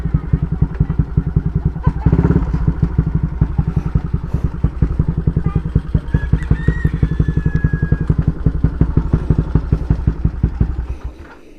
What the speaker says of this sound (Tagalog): Daming motor mga paps, ano?